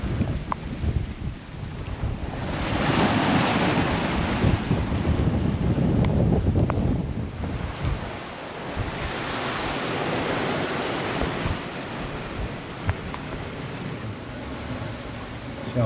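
Wind gusts and surging waves of the shallow North Sea batter a Hallberg Rassy 44 sailing on a broad reach in rain, with a loud rushing roar that swells and eases, plus buffeting on the microphone.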